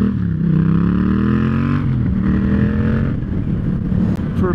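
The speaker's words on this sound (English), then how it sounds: "And now I'm riding the XSR 700." A Yamaha XSR 700 motorcycle engine drones steadily while being ridden, its pitch rising through one gear and then holding after a shift, loud and close throughout with no voices.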